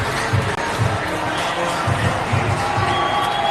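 Stadium crowd at a Packers versus Broncos NFL game, a broad, loud roar with rhythmic pulses of chanting or stomping, while a commentator talks over it.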